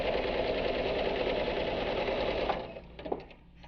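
A sewing machine stitching a fabric pouch, running in a loud, steady mechanical whir for a couple of seconds before slowing and stopping with a few light clicks and clunks.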